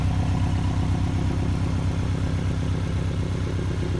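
A Porsche Cayman engine runs just above idle, a steady low rumble with an even pulsing hum, close and constant throughout.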